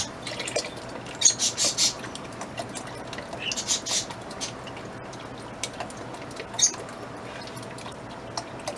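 A liquid ingredient is poured from a container into a crock pot while making chicken spaghetti, giving soft splashing, glugging bursts near 1 to 2 seconds and again around 4 and 6.5 seconds, with quiet stretches between and no talking.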